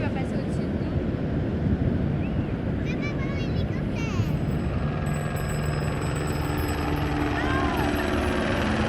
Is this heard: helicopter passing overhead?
yes